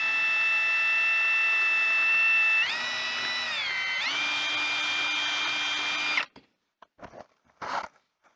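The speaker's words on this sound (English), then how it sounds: "Now we can drill." A power drill whirs steadily for about six seconds while installing a repair kit on a BMW F48, its pitch shifting as the load changes, then stops, followed by a few faint clatters.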